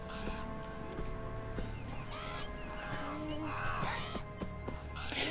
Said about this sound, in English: Okay, there's a crow there.